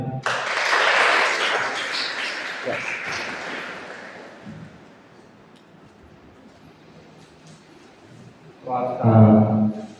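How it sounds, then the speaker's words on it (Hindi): Audience applause at a polytechnic yoga and self-defence event, a broad wash of clapping opening loudly and fading over a few seconds, with low rumbling hall noise and a burst of speech near the end. "ताली बजाओ"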